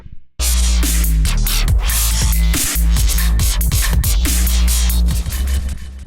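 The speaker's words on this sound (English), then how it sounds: "The break I'm going to show you has only two instruments in it, operator and a drum rack." A dubstep break built from Ableton Operator and a drum rack: heavy sustained sub bass with punchy drum hits and bright, gritty synth stabs, loud and dense throughout after a brief quiet start.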